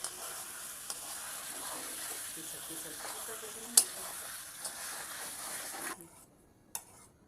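Potatoes sizzle steadily in hot oil during home cooking, a soft continuous frying hiss broken by a few sharp clicks of stirring before the sound drops away near the end.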